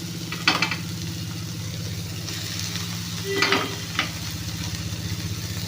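Chickpea greens stir-fry frying in a pan with crushed green chilli paste, a steady close sizzle running throughout with a few brief louder scrapes and stirs, no talking.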